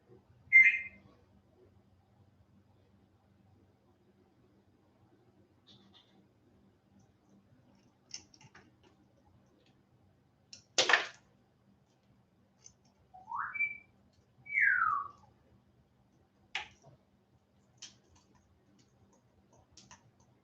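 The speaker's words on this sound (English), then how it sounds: "Can you whistle pretty?" A pet bird gives a few short, sweet whistles, faint and widely spaced, with scattered soft clicks and ticks in a quiet room.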